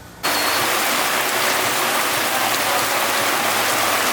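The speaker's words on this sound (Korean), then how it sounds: "아휴 진짜 비 뭔데 비 뭐냐고요" Heavy rain falling, a dense steady hiss that begins abruptly and continues loud and even, with no talking.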